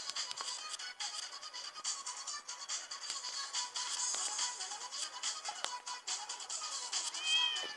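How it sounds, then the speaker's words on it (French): Game-style cat meows from Nyan Cat in a video game, repeated cries over a busy, bright electronic background that runs continuously throughout. "Car faut pas oublier que Nyan Cat est un chat"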